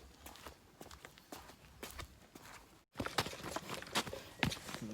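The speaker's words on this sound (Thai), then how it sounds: "วิธีเดินลงทางลาดชัน" Footsteps descend a steep slope, taken backwards, as faint irregular crunching steps with a short pause partway through and no talking.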